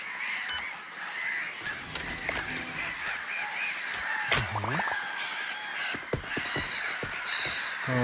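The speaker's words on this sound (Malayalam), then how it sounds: "കാക്കകൾ ഇപ്പൊ ഞാൻ ഓടിക്കും." Crows caw repeatedly in the Waterpark Simulator video game, harsh calls scattered across the scene alongside other game sounds, with someone talking over them at times.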